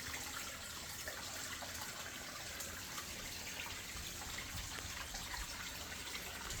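Creek water trickling and gushing steadily through grass laid over the channel, a constant, fairly faint wash of running water with no voices.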